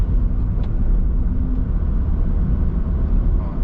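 A Honda City 2010 1.3 with manual transmission cruises in 4th gear at about 2,500 RPM. Its engine gives a steady, low, droning hum mixed with road rumble inside the cabin.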